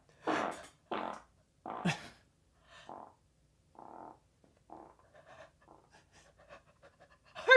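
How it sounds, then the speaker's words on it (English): Three loud, blurting fart bursts in quick succession, followed by a string of fainter, sputtering puffs trailing off, with no talk. "Before I die, I have to let out a fart."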